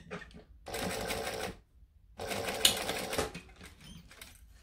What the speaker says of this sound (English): Needle down. Across. Needle down.